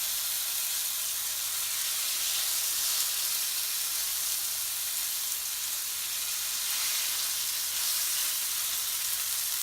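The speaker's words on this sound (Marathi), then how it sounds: "आपण हा जो मॅरिनेट केलेला मासा आहे तो गरम तेलात टाकायचा आहे" Marinated pomfret goes into hot oil on a tawa, setting off a loud, steady, close sizzle that hisses on unbroken with no voices over it.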